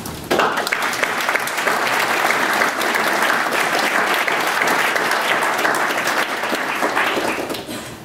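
Sustained applause from a conference audience greeting Dr. Marju Lauristin, a dense, even clatter of many clapping hands that starts abruptly and holds steady at full strength for about eight seconds, with no talk over it.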